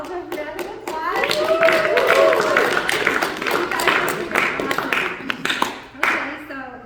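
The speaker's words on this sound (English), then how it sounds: "So please give yourselves a round of applause." An audience at a talk giving themselves a round of applause, a loud, sustained burst of clapping from many hands mixed with voices and cheering, easing off toward the end.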